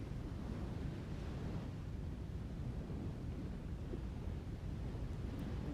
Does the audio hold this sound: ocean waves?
yes